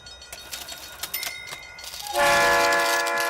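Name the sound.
Twitch hype train alert sound effect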